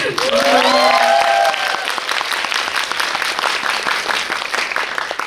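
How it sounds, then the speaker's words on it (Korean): A big round of audience applause rolls through a cinema hall during a post-screening talk for the film Door Lock, loud and continuous, with a few whoops and voices rising over it early on. "잘 전달이 됐으면 큰 박수."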